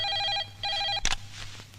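A telephone rings with two bursts of a steady electronic trill, a short gap between them, followed by a brief clatter as the call is picked up.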